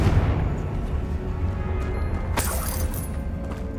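A Confringo fire spell blast in the video game Hogwarts Legacy, a heavy booming burst over a dense low rumble with a sharp crackling hit midway, loud and with no talking.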